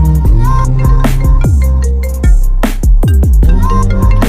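A mobile phone ringtone plays a loud, close, repeating electronic melody of bright plucked tones with no voices over it.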